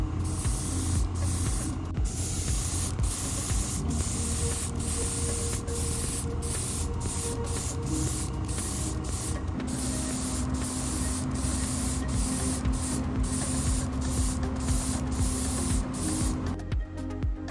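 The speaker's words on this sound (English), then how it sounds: "everything is primed using Kaleido's gray primer" A spray can of gray primer coats the interior of a plastic Chevy Beretta GTZ model car kit in close, loud hissing bursts. The spraying is nearly continuous, broken by brief gaps.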